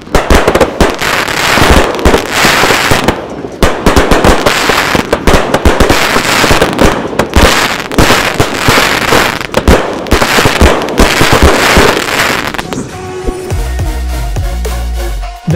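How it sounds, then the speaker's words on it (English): Six neon aerial fireworks fire together in a loud, dense, unbroken barrage of crackling bursts and launch thumps that go on for most of the stretch before the sound thins out near the end. "when you light each of these six aerials together, you're looking at some beautiful neon colored sky puke"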